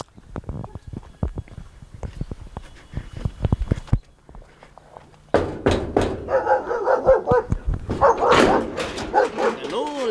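Dogs bark at a kennel in Kenya. Sharp, irregular barks and thumps come close together, followed by a denser stretch of barking with voices talking over it.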